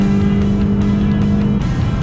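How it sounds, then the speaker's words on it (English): A VW Golf GTI with a 2-litre turbocharged petrol engine drives on a test track, its engine a loud, steady drone with a strong low hum holding for about a second and a half before shifting briefly. "The sheer joy of driving the Golf GTI with its 2-liter turbocharged petrol engine that produces 261 bhp and 370 Nm of torque"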